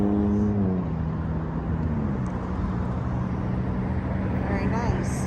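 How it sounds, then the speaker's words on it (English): Steady road traffic rumbles past with engine drone and passing vehicles, including trucks and motorcycles, a continuous loud wash of motor noise with a voice briefly heard at the start. "So processing traffic, loud noises, trucks, motorcycles."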